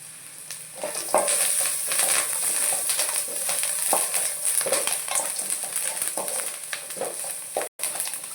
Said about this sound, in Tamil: வெங்காயம் வதக்கிட்டே இருக்குது.